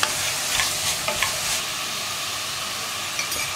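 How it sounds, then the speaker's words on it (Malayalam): Onions with ginger garlic paste fry loudly in hot oil, a dense continuous sizzle with a few scraping stirs near the start, heard close and without any talking. "ഇതൊന്ന് ഇളക്കി മിക്സ് ചെയ്യാം"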